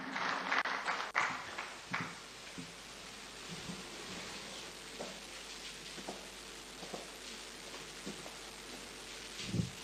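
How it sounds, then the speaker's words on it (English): Audience applause in a conference hall during a high-level inter-ministerial meeting on World Press Freedom Day, a steady wash of many hands clapping for about ten seconds with no talk over it, swelling briefly at the start and end. "Please, a resounding round of applause once again for UNESCO partners."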